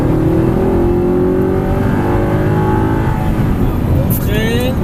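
A car accelerates hard on a driving course, its engine close and loud with a steady rising whine that climbs in pitch as it pulls away, running continuously throughout.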